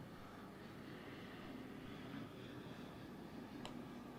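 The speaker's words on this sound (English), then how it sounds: "Oh, that is a very low plane." A low-flying airplane passes right over a baseball stadium during a showcase league game. It makes a faint, steady engine rumble and roar under broad background noise, with no clear rise or fall.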